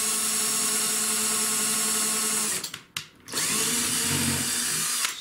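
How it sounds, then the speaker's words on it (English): Power drill boring holes in model railway track, a steady loud whine that stops briefly near the middle before spinning up again, close up with no talk. "Now first thing you've got to do is drill your holes."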